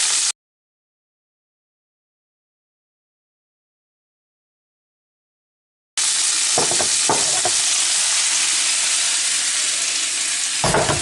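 Shrimp fry and sizzle in a hot pan for a spicy sauce dish, a steady close hiss that starts abruptly after a stretch of silence, with a few stirring knocks.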